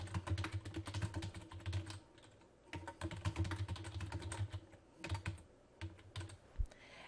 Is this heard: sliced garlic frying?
no